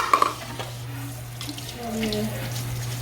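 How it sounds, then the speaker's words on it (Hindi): Water runs from a kitchen tap while dishes are rinsed, a steady faint stream with a few light clinks near the start and a low hum underneath. "मैं ये बर्तन साथ में धो लूँगी।"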